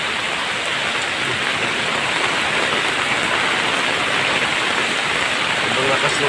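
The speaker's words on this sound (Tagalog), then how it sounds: "Sobrang lakas ng ulan." Heavy typhoon rain pours down as a dense, unbroken hiss of drops drumming on surfaces. It stays loud and even throughout, with no clear voices over it.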